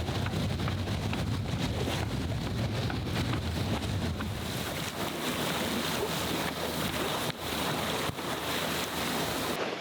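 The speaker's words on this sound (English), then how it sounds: "the wind's picked up again" Strong wind and waves while sailing a boat toward Tarbert off the west coast of Scotland, a loud continuous roar of wind buffeting the microphone over rushing water and hull splash, with no talking.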